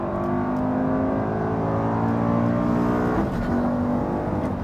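A Lamborghini Gallardo Superleggera engine roars loudly and continuously at close range, a dense, steady mechanical drone with a slight rise and dip in pitch.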